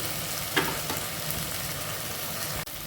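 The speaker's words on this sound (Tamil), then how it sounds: "இப்போ தக்காளி கொஞ்சம் நேரம் வதங்க விட்டுடலாம்." Tomatoes sautéing in a pan for mushroom biryani, a steady moderate sizzle with a brief utensil clink near the start and a low hum underneath.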